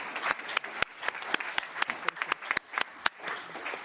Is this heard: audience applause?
yes